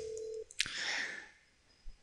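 A Cisco CME IP phone extension rings once, a short electronic tone and then a brief bright burst that fades, quiet and close with near silence after.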